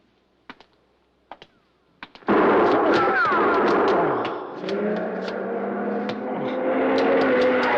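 A radio drama sound effect of gunshots: a few sharp isolated cracks, then a sudden loud sustained barrage of rapid shots and crackling blasts that continues for several seconds.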